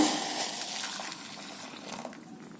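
Coffee trickles and splashes steadily into a cup for a couple of seconds, a soft, close pouring sound with no voices.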